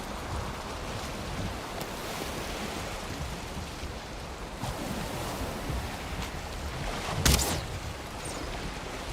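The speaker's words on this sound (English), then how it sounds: "The waves, open ocean, sound of nature," Open-ocean waves in the survival game Valheim roll and wash continuously in a broad, steady surf hiss, with one brief louder splash near the end and no talking.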